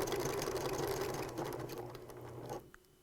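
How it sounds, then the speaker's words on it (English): A sewing machine stitches binding onto the edge of a T-shirt quilt, a close, steady fast mechanical whir that slows and stops near the end, followed by a small click. "I grab my threads, and I start sewing."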